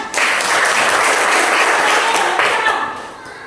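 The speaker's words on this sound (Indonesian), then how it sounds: "Oke, bisa tepuk tangan." A burst of applause from a group, steady clapping for a few seconds before fading out.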